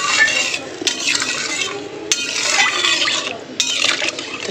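Water poured into a pot of fish and potato curry gives bursts of splashing and sloshing, broken by clinks of a utensil against the pot, close and fairly loud.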